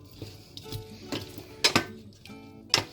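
Potatoes and onions stirred in a cooking pot, with a few scraping and clinking hits of the utensil against the pot interspersed with soft stirring noises, close and moderately quiet.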